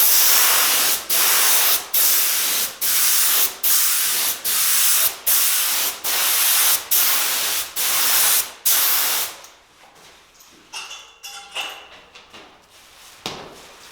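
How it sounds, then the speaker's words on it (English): Rapid bursts of silver aerosol spray paint hiss onto a printing sheet in a steady rhythm, about a dozen short sprays, followed by softer crinkling and handling noises. "I will spray the silver direct onto the printing sheet."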